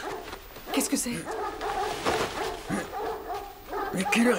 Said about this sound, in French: Mais pourquoi les chiens sont-ils nerveux comme ça ?